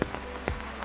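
Outdoor rain falls in a steady soft patter, with a few sharper drop hits standing out in a short, faint stretch.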